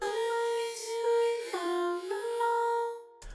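A consolidated vocal stretched back out to its original length after being squeezed two to three times shorter, heard alone as a sustained sung tone with clear harmonics, slight pitch shifts and a brief dip midway, ending abruptly.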